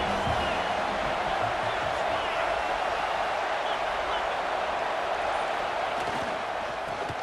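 A steady, distant roar of an Alabama home stadium crowd in EA Sports College Football 26, a constant wash of noise on third down with a commentator talking over it.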